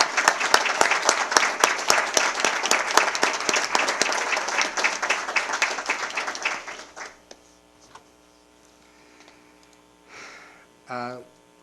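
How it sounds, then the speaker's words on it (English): A room full of people at a school board meeting in Eau Claire give a round of applause, brisk and fairly loud, which thins out and stops after about seven seconds, followed by quiet room hum and a couple of brief faint sounds. "We can give them a round of applause."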